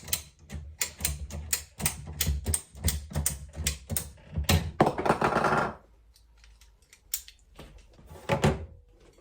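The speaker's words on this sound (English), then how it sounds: "Now we can cut it. Make sure it's nice and straight and not leaning with the blade." A hand saw cuts a piece of wood for a DIY skateboard coper, producing rapid rhythmic rasping strokes close by, then a pause and a few final strokes.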